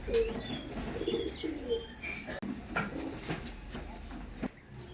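Pigeons coo repeatedly, soft rolling calls close by, with a faint background voice.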